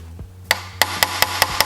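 Six sharp metallic taps of a hammer striking a socket to seat a valve cover gasket on a 2008 Acura TSX, evenly spaced and close, over a low steady hum.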